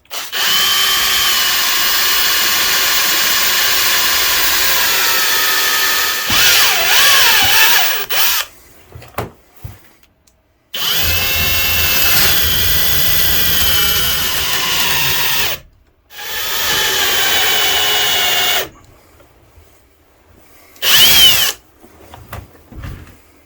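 A power drill whines loudly as it bores into wood for a ferro rod handle in several long bursts, pitch wavering under load as the bit wanders, with short pauses and brief final spurts.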